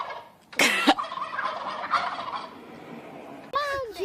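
Turkey gobbling in loud, close rattling bursts, a sharp one near the start and another at the end, with softer bird calls carrying between them and no talking.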